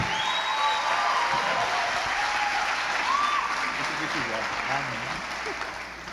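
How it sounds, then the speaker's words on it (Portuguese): A church congregation gives sustained applause for the pastor, dense steady clapping filling the room for the whole stretch, with a few voices and cheers mixed in. "uma salva de palmas para ele"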